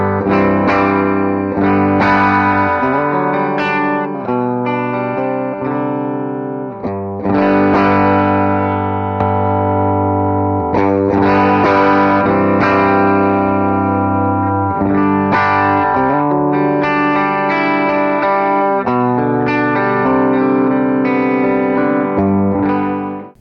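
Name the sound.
bass guitar played through pedalboard with ToneX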